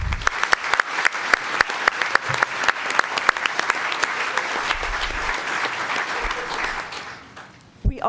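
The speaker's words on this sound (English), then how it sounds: "Let's give everyone a round of applause." An audience at an International Women's Day celebration claps in a lively round of applause, sharp individual claps standing out over the crowd, staying loud and steady before fading out near the end.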